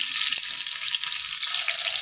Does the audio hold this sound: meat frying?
yes